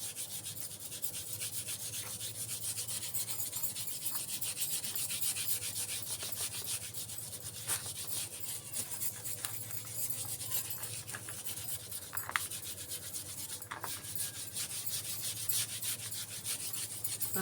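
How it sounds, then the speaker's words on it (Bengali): A pangas fish is scrubbed with a rough scrubber and a little Vim, giving a steady, close-up rasping scrub that runs on for the whole stretch with a few sharper scratches along the way. "একটা খড়খড়া মাজুনি আর একটু ভীম নিয়ে নেবেন, নিয়ে এই মাছের মধ্যে একদম এভাবে ঘষে নেবেন।"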